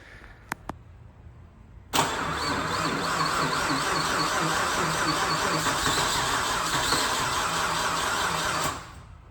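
A Nissan Skyline RB engine cranks and fires after a couple of brief clicks, then settles into a loud, rough, continuous run for several seconds before cutting off, heard close up with no voices.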